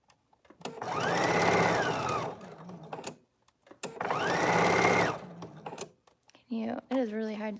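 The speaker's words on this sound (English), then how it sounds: "So we're just gonna keep lining it up and sewing" A sewing machine stitches around the sleeve of a shift dress in two sustained close bursts of fast whirring, separated by a short pause, followed by someone speaking briefly at the end.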